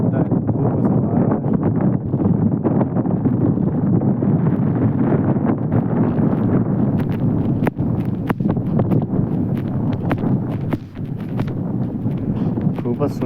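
Wind at Natunagar dam, where it sets the trees swaying, buffets the microphone as a continuous low, gusty rumble that holds throughout.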